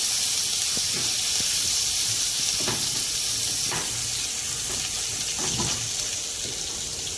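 Steady sizzling of garlic and spiny gourd frying in hot oil without water, a continuous crackling hiss with a few soft clinks of stirring, no voices.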